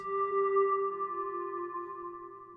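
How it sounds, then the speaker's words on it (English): A sustained, smooth synthesizer pad with stereo delay holding a few steady tones, softly echoing and slowly fading, with no voices. "And it sounds a lot more like a pad now."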